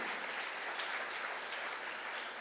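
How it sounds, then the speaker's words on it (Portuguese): A church congregation claps together, a faint, distant and steady patter of hands sustained briefly without talk. "Deus merece uma salva de palmas agora"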